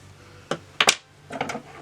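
Scissors cut hair bangs in a few crisp, close snips: a single snip, then a quick pair, then a softer cluster of cuts, over a quiet room.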